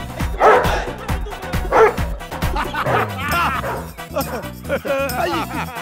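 A dog barks repeatedly in a loud, rhythmic series of yips and woofs, with music playing underneath throughout.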